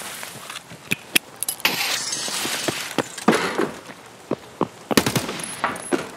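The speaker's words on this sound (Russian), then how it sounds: "Ну, взрыв." Loud gunfire and blast-like bursts from an Escape from Tarkov firefight, with sharp cracks and rattling volleys scattered across the clip, one heavy broadband burst near the middle and another cluster toward the end.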